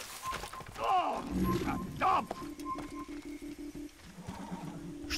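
A horse in the Assassin's Creed video game gives two loud, shrill whinnies close up, followed by a steady mechanical, ratcheting clatter of hooves and gear-like clicks.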